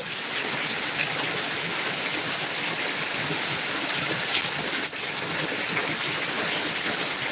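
Heavy rain pours down in a constant, dense roar of drops, loud and unbroken throughout with no voices.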